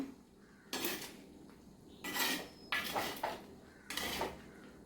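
Aviyal vegetables stirred in a clay pot, four or five loud scraping, clattering strokes of a spoon against the earthenware, close up with no talk.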